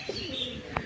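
Doves and pigeons kept in a loft give a brief, soft low coo with a faint chirp and a short flutter-like burst, close and quiet.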